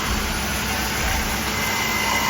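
A van engine with a broken muffler runs at a steady, loud idle in a repair shop, a constant rough drone close by with no talking.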